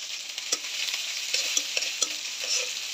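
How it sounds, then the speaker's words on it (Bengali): Chopped green chili, onion and garlic fry in hot soybean oil in a karahi while being stirred. A steady close sizzle is broken by several sharp scraping and clinking stirs, and no one speaks. "এখন ভালোভাবে ভেজে নেব।"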